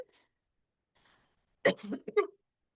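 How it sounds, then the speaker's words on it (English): A person with allergies gives a few short, quiet coughs in quick succession, clustered near the end after mostly silence, with no talk over them. "Sorry for coughing if you hear me, because I have allergies."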